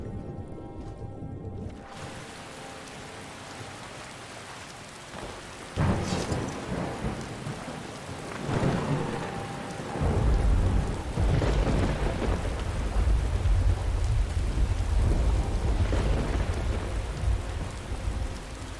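Rain and thunder in the video game Skyrim, steady rainfall with several loud rolling thunderclaps, the rain growing heavier and more rumbling toward the end.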